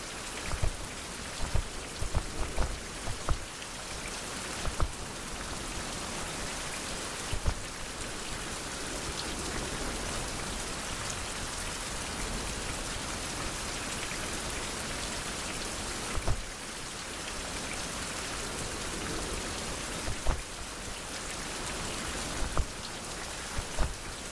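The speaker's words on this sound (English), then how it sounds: "even though I'm outside running in the rain" Steady rain falls in an outdoor video game scene, a continuous broadband hiss with occasional louder drops or clicks standing out, heard alone without speech.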